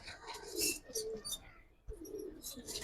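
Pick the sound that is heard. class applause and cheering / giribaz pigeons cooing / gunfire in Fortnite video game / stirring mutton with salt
giribaz pigeons cooing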